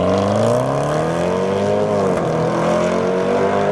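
A supercharged V8 Range Rover SVR with all-wheel drive pulls hard. A loud, steady engine roar shows harmonics that climb and then dip briefly around the middle, with no voices over it.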